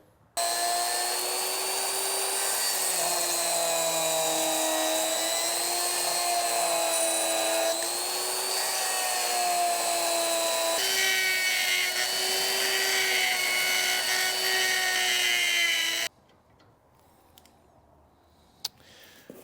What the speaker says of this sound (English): I'm gonna go ahead and get a die grinder. I'm gonna get those worked out on both sides